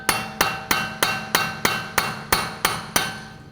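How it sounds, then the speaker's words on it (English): Hammer striking a punch to free the rear axle from the wheel hub on a 2013-2022 Buick Encore, ten sharp metallic taps at a steady, even rhythm, close and loud with no talk. "I'm just going to take a punch, just give it a tap, make sure the axle is loose from the hub."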